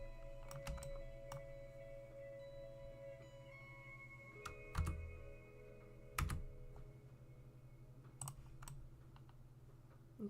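Computer keyboard typing while working in Blender 3D software: scattered bursts of close, crisp key clicks and occasional harder taps over a low steady hum, with pauses between keystrokes.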